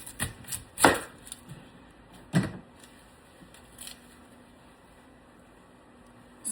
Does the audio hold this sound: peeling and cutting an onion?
yes